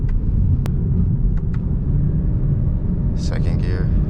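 A BMW E92 335is with a DCT gearbox pulls in second gear, its engine a loud, steady low rumble from inside the cabin, with a few brief clicks and a short burst of higher noise near the end.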